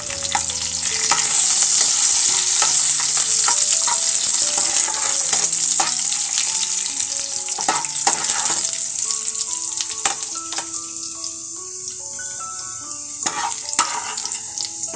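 Cashews, raisins, crushed cloves and cardamom stir-fry in a kadai pan, a loud continuous hiss of frying with frequent metallic scrapes and clinks of the spoon, easing slightly toward the end, no voices.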